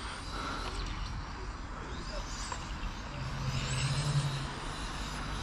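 A Schumacher Mi8 RC touring car runs at full throttle, giving a faint, thin whine that rises and falls with the speed. The whine sits over a low background rumble.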